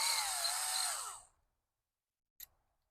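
Small-bit power drill whining at high speed for about a second, then spinning down to silence, followed by a brief sharp click or tap; close and alone.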